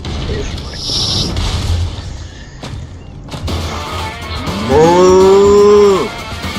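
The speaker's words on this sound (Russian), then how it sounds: "и все равно эта корова идет сюда" In Metal Gear Rising Revengeance, a cow lets out one long, loud, nearby moo near the end, following scattered game thumps and clatter, with no speech over it.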